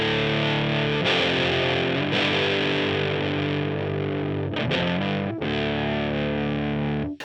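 An electric guitar runs through a Sonicake Fazy Cream fuzz pedal with the gain turned all the way down, giving sustained, gritty distorted chords that ring out, pause briefly and are struck again, loud and close.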